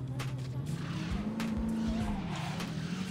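A car in the video game Saints Row skids with a long, loud tire squeal over a steady engine drone, sliding for most of the moment; no talk over it.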